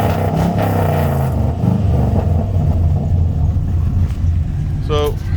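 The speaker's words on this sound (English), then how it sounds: "I don't know if you could hear the notes of the engine, but turns on pretty easy." A 1953 Chevy 3100 pickup with a fuel-injected engine idles steadily up close, a low continuous rumble with slight surges, and a brief higher tone near the end.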